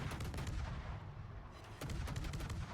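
Naval gun shells fire in the World of Warships video game aboard a Kitakaze destroyer. A dense, steady rumble of distant gunfire runs throughout, briefly thinning near the middle before returning.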